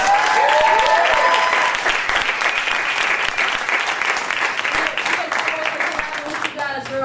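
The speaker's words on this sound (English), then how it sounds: "Give them another round of applause, ladies and gentlemen" Audience applause at a live freestyle dance show, a dense, loud round of clapping that fills the whole stretch and tapers slightly near the end, with faint voices mixed in.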